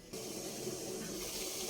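Water in a pot on the stove, heated for steaming puto cheese, comes to a boil with a steady close hiss and bubbling rumble that runs evenly throughout, with no voices.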